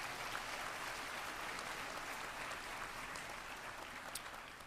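An audience at the Northpoint Christian School 2019 graduation applauds the graduating students, a dense continuous patter of clapping, fairly distant and even, with no talk.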